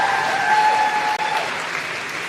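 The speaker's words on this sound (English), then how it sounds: "Graduates, please stand as you extend a round of applause to all of these people who have supported you" Standing graduates at a professional school recognition ceremony applaud their supporters; loud, dense clapping fills the hall continuously and evenly, with a faint tonal whine beneath it.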